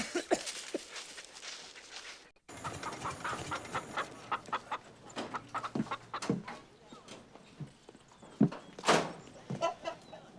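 Hens cluck in a run of irregular, choppy bursts, some sharp and loud, others softer and overlapping, after a brief quiet gap at the start, with faint background bustle.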